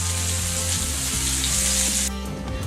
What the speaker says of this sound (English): we've got some chicken frying over here